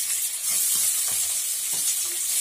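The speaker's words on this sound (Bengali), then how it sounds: "আমি পেঁয়াজটা দিয়ে দিচ্ছি।" Chopped onion hitting hot oil in a home frying pan, giving a steady loud sizzle with a few soft stirring scrapes, no talking.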